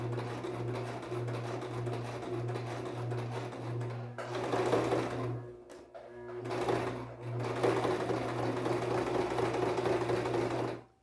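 A sewing machine stitches fabric along a marked line, its motor running in a steady rhythmic whir with brief pauses and slowdowns as the piece is turned, close and fairly loud with no talking.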